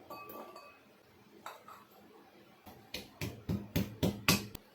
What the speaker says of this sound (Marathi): मिरची आणि लसूण इथे ना कुटून घेऊया